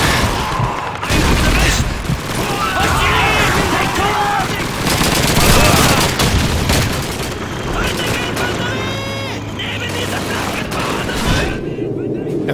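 Battlefield gunfire and tank cannon blasts from the World War II shooter Call of Duty 2, set in Stalingrad 1943, with rapid bursts and heavy booms throughout and a voice talking over the combat.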